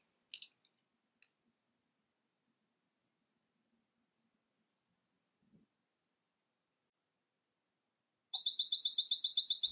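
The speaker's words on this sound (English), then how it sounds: "Die Alarmanlage wird aktiviert." After long near-silence with a few faint clicks, an ABUS Secvest wireless alarm system gives a loud, rapid, repeating series of high electronic beeps at its activation.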